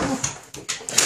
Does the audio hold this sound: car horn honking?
no